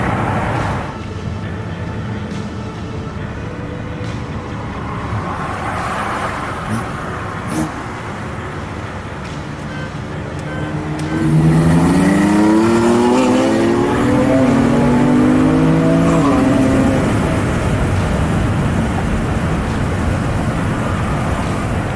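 Turbocharged BMW M3 with pure turbos on 93 octane racing a stock-turbo M4 on full E85, engines droning steadily then surging into a louder, rising acceleration roar partway through, with voices talking over it.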